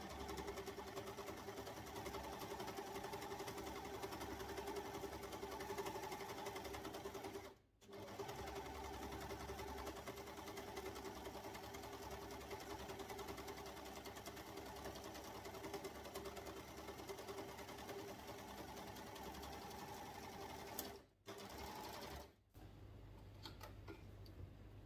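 A home sewing machine stitching a washable nursing pad, running in a fast continuous rattling whir close by, briefly stopping twice and pausing near the end.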